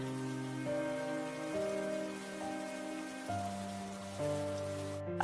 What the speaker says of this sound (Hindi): ये देखो माया, जोरदार बारिश शुरू हो गया।